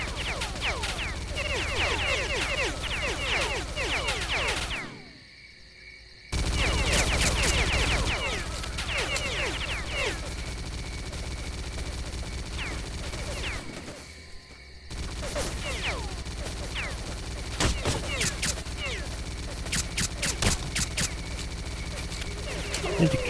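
Rapid bursts of gunfire in the shooter game S.T.A.L.K.E.R.: Clear Sky, dense rattling volleys that cut out twice for brief pauses, with someone talking over the shooting.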